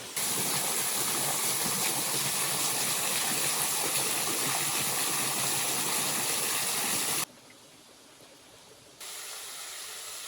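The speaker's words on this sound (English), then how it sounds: "Alright, so here's the waterfall I mentioned." Rushing water from a forest waterfall pours as a loud, steady broadband roar heard close, then cuts abruptly to a quieter, distant wash before partly swelling back.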